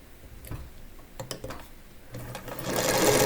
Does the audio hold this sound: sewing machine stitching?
yes